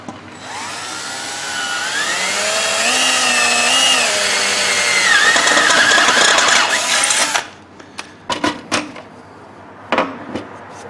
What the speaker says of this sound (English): drill another hole downstream of the converter